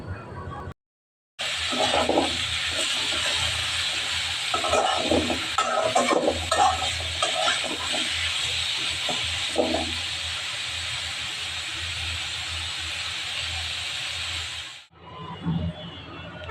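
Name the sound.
frying bottle gourd greens (lau shak) in a pan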